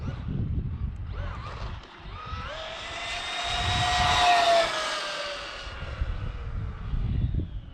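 A Traxxas Rustler 4x4 VXL RC car's electric motor whines as it passes at top speed, its pitch rising and falling with the approach and departure, loud for a few seconds, then fading over outdoor background noise.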